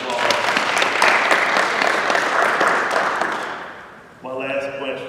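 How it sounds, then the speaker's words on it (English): A crowd applauds loudly for several seconds, the clapping gradually dying down before a voice starts talking. "So let's give Crystal a round of applause."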